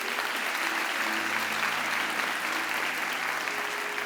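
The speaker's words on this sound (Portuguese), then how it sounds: "Você pode aplaudir Jesus?" A church congregation applauds during a sermon, a dense, continuous wash of many hands clapping together, loud and even throughout about four seconds, with faint tonal hum underneath and no speech.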